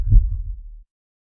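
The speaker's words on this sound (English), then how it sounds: "a madman is tormented by the beating of his murder victim's heartbeat" Heartbeat sound effect for The Telltale Heart, a single deep, muffled thump that swells and fades within under a second, then silence.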